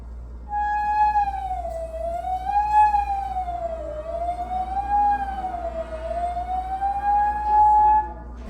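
A flute head joint is blown while a finger slides in and out of its open end, giving one clear tone that swoops slowly up and down like a siren for about eight seconds, alone and fairly close.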